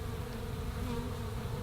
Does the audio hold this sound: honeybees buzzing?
yes